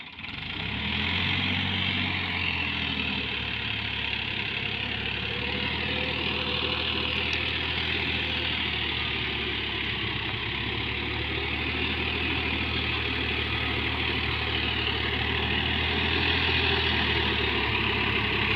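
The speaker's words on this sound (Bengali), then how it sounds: "পাওয়ার স্টিয়ারিং এই হাল চাষ করতেছি।" A Sonalika 50 power-steering tractor with a rotavator plows potato-field soil, and its diesel engine drones in a steady, loud, low rumble close by. The sound runs on without a break and no one speaks.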